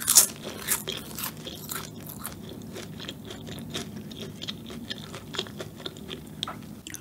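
Loud crisp crunching of flaky egg tart pastry being bitten and chewed, with repeated crackling bites and chewing close to the mic, no talking.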